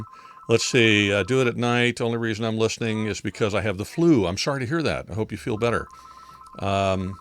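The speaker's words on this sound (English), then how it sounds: "Pardon my phone ringing." A telephone rings with a steady electronic tone in the background while people talk over it, during a live-streamed question-and-answer session.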